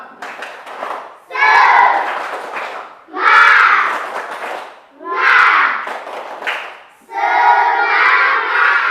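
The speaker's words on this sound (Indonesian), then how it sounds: "Tepuk semangat." Schoolchildren in a classroom perform a rhythmic spirit clap, loud bursts of patterned clapping and chanted shouts in four or five phrases separated by brief pauses.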